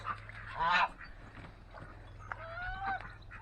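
A couple of duck-like honking quacks, one louder burst and then a quieter, drawn-out call, over a quiet outdoor background.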